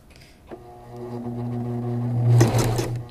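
A sewing machine stitches fabric in a short run, its motor humming and the needle clattering rapidly, starting softly and building louder up close, with no talking.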